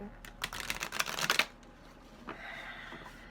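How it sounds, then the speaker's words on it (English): Tarot cards are shuffled briefly by hand, a quick flurry of close, papery riffling that stops after about a second and a half, followed by quieter soft handling. "I'm going to do my best to shuffle them with my eyes closed"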